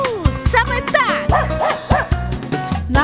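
A dog in a children's cartoon-style song gives several quick, bright yips and barks in an uneven rhythm over a sustained musical backing.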